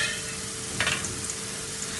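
Boondi for Diwali kara boondi sizzles in hot oil, a steady faint hiss of frying with a brief brighter crackle partway through, heard alone without talk.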